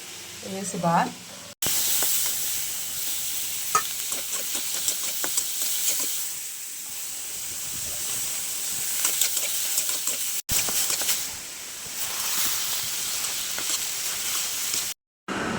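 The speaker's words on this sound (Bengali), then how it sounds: "লাউয়ের ছোলাই ভাজি করছি চিংড়ি মাছ দিয়ে" Bottle gourd peel frying with shrimp gives off a steady, close sizzle and hiss that runs almost without a break, with faint stirring clicks mixed in.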